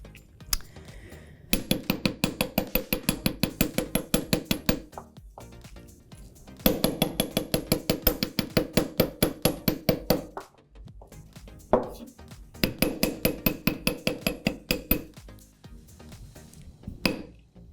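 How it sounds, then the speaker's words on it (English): Three bursts of rapid, evenly spaced metallic taps, a chasing hammer ringing against a steel bench block while shaping earrings, with short pauses between each run. "I gave them a little bit of a hammer with my bench block and my chasing hammer"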